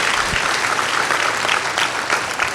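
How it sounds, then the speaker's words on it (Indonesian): A church congregation gives loud, sustained applause for God during a pastor's sermon, a dense steady roar of clapping from a large crowd across the whole stretch. "Beri tepuk tangan yang meriah buat Tuhan."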